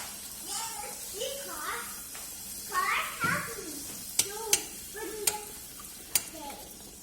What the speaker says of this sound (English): Now let's fry the puris one by one.